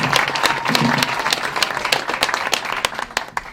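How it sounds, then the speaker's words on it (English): A comedy show audience at a cancer survivor showcase claps and applauds, a dense, loud burst of many hands that stays steady before tapering off near the end. "give yourselves a round of applause for supporting live comedy"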